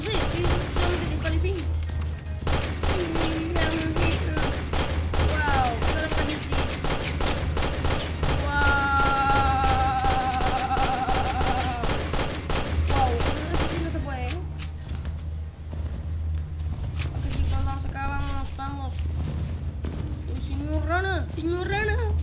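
Rapid bursts of gunfire crackle repeatedly in the video game Amazing Frog, over a steady game soundtrack, with music and occasional electronic tones throughout.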